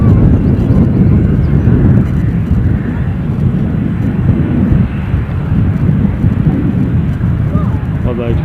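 ATR turboprop airliner at Edinburgh Airport, a loud low rumbling engine drone that swells and eases slightly over several seconds, with a voice over it and some wind buffeting.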